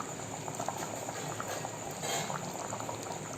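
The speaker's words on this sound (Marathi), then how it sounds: "बघा किती उकळी आली छान." Egg korma curry bubbles and simmers in a pan, giving a steady close gurgling boil with soft popping bursts throughout, alone without talking.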